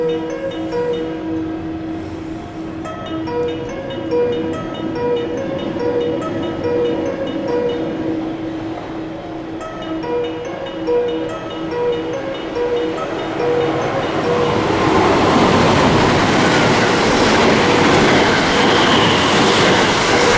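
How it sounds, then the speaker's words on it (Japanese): A JR West Biwako Line train passes through a station platform without stopping, first heard as a steady rolling rumble with tonal hum, then swelling into a loud, broad rush of wheels and air as the cars sweep close by. "2番乗り場を電車が通過します。"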